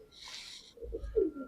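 Pigeons in a pigeon loft give soft, low coos in a short burst of throaty calls, faint and close, after a brief rustle, with no voices.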